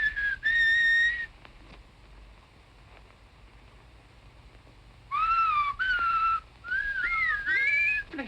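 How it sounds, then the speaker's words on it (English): A person whistles a tuneful signal call in two bursts, a short phrase and then a longer, warbling run after a quiet pause, clear and fairly close over a faint background hiss. "So I whistled back,"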